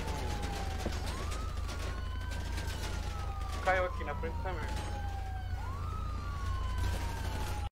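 A police siren wails in long rising and falling sweeps under excited talk as a police car and motorbike give chase in a video game, with game-like background noise and a brief burst of clatter midway.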